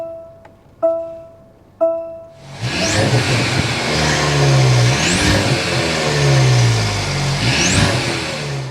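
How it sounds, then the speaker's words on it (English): A 2024 Mercedes-Benz C300 turbo four-cylinder starts up after a few door or key clicks, then settles into a steady, close exhaust note with several brief revs rising and falling, no talking over it. "start up this Turbo 4 so you can hear that exhaust note"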